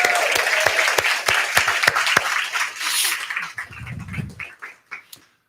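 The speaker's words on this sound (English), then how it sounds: "Let's give her another round of applause." Applause from a church congregation, brisk and loud, with distinct sharp claps through most of its length, then tapering to scattered claps and fading out, a brief low murmur partway through.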